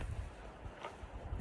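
Wind buffeting an outdoor microphone in low, uneven rumbling gusts that rise and fall across a short stretch, fairly faint overall.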